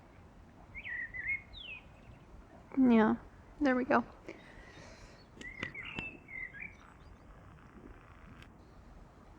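Several bird chirps and whistled calls sound in the distance, scattered across the clip, while a voice briefly speaks over them.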